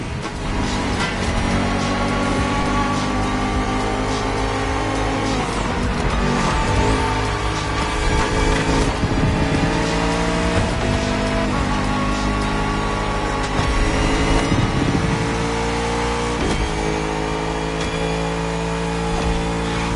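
Bugatti Vision GT engine in The Crew video game, a loud, continuous roar with rising and falling revs and shifting pitch throughout, close and dominant with no talk.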